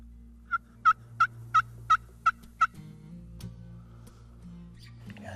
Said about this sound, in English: Gobbler sounds off over here, just like promised.